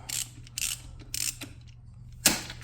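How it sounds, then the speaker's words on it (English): A 13mm socket wrench works on the oil drain plug of a KTM 300 XC-W two-stroke dirt bike: several close, quick bursts of ratcheting clicks, then a sharp metallic crack as the plug breaks loose. "Now, come back over here with my 13mm socket,"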